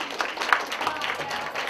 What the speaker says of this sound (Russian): Да, аплодисменты для бабушки Лидии Федоровны